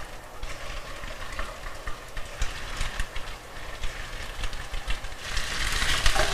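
Chicken pieces fry in hot oil for a chilli chicken dish, giving a steady, dense sizzle with crackling bursts throughout, fairly close and continuous, with no voices.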